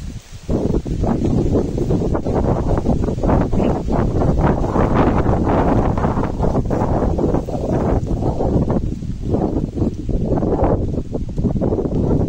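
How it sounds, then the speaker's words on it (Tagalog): Strong wind buffets the microphone continuously, a loud roaring rush with gusty surges throughout. "Mahangin naman daw."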